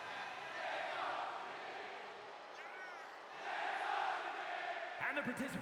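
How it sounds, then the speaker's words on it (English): Video game arena crowd in WWE 2K26 chanting and singing along to a wrestler's entrance, a broad, steady crowd swell that briefly dips and rises again, with a commentator's voice over it. "Well, the crowd's gonna sing it for us."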